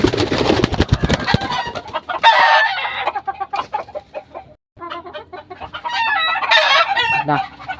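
Hybrid hen about to lay eggs, clucking repeatedly up close in irregular bursts with short pauses between, loud and sharp against a quiet farm background.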